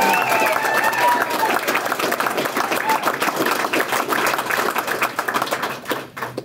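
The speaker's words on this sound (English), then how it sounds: "Lancaster County, please give yourselves a round of applause for what you are accomplishing." Lancaster County convention delegates at a Nebraska GOP gathering applaud in a dense, sustained round of clapping with some cheering voices, loud and close, tapering off near the end.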